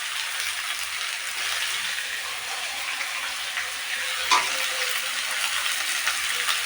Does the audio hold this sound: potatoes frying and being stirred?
yes